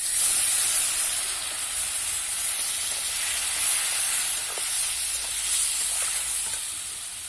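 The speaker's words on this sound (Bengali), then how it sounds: "এবার একটু অল্প পরিমাণে জল দিয়ে কষিয়ে নেব" Spiced masala with Kashmiri chili powder sizzles in a pan after a splash of water, giving a loud, steady, close hiss that fades slightly toward the end, with no voices.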